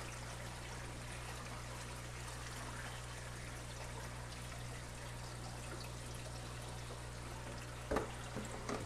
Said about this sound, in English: pour water in the overflow box